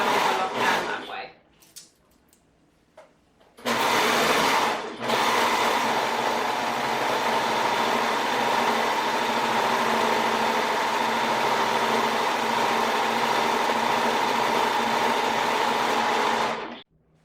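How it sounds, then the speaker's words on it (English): An overlocker stitches down a seam on a cotton peasant top, a loud steady motor whir running continuously for about thirteen seconds after a few short starts, then stopping abruptly. "I'm just gonna do this here and now overlock down that way."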